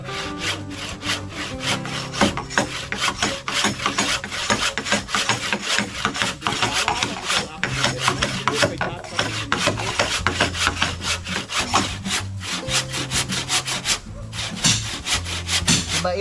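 A hand saw cuts through wood in fast, even back-and-forth strokes, a rasping rhythm that is loud, close and unbroken for the whole stretch, with no talking.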